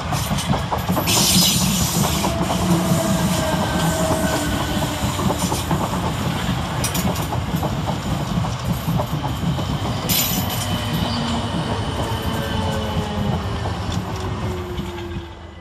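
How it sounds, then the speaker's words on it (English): A South Western Railway class 455 electric train, two units coupled, pulling into Clapham Junction, with loud continuous wheel rumble, rhythmic clatter over rail joints and faint squeals as it draws in. "Next in with the 1846 South Western Railway service from London Waterloo to Hampton Court is 455733 and 455870."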